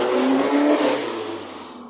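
A car engine in the video game ROV hums at a steady rev with a high whine, fading slightly toward the end; no talking.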